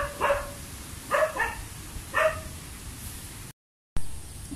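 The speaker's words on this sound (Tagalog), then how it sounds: "May aso." A dog in a rural Philippine province barks three times at steady intervals over a hiss of wind and rain, each bark fairly close and clear, followed by a brief dropout.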